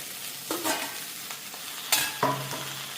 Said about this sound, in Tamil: வரமிளகாயும் பூஞ்சிக்காயும் வதங்கிட்டு தக்காளி பழத்தை போடுவோம்